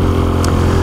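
A Kawasaki motorcycle rides on a cold day, giving a brief, loud, steady low engine drone with strong harmonic tones and no speech.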